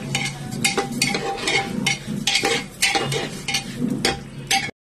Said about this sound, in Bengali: এবার চালটা আমি দিয়ে দেবো। চালটা দিয়ে ভালো করে নাড়িয়ে দেবো।